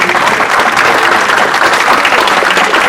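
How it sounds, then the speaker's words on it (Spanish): Audience applause for a doctor at an inaugural ceremony at ESCOM-IPN, a dense, steady clapping from a large crowd that holds at an even loudness throughout with no talk over it. "Un aplauso, por favor, para el doctor Genaro."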